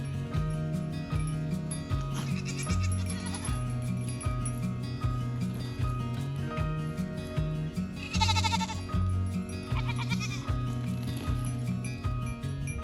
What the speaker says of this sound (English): Now they realize she's a different goat.